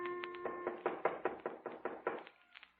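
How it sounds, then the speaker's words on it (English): Knocking on a door in an old radio drama: a run of about nine quick, faint raps in an even rhythm after a brief tone at the start. "there was a knock on the door"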